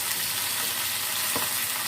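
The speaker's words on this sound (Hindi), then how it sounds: "प्याज को भी फ्राई कर लेते हैं।" Roughly chopped onions frying in oil for dhaba-style keema, a dense, even sizzle throughout with one brief stir or scrape near the end, close by and without talk.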